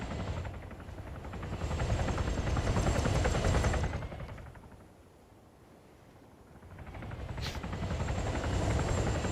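A helicopter in the Arma 3 video game drones with a steady rotor chop, loud and close, fading to a distant hum mid-clip before swelling back in again, with no talk over it.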